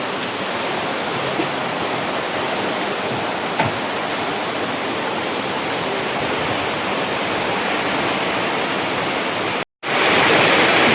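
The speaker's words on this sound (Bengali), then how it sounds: "বৃষ্টি হচ্ছে, ওপর দিয়ে জল পড়ছে, এইখান দিয়ে বেরিয়ে যাচ্ছে চালে" Heavy rain streams off a roof in the Sundarbans, a loud, unbroken rushing of water that cuts out for a moment near the end and then comes back.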